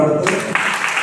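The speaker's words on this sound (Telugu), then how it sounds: "అందరికీ గట్టిగా చప్పట్లు పడుతూ" Applause from a news event gathering, a dense steady patter of many hands clapping for about a second, with a brief lower murmur at the start.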